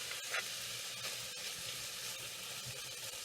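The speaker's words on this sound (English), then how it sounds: "Continue to saute it." Cauliflower sautéing in butter in a pan, a steady soft sizzle with occasional stirring scrapes, close and fairly quiet, no voices.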